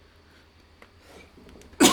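A single sharp cough bursts out loud and close near the end, after a quiet stretch of faint breathing and room noise.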